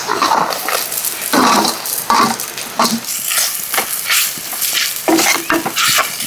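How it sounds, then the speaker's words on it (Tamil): Crushed onion and green chili frying in a pan for a Tamil crab rasam, a loud steady sizzle with repeated scraping bursts from stirring, close up and without speech. "இடிச்சு வச்ச வெங்காயம் பச்சை கொச்சுக்கவே போட்டுருவோம்"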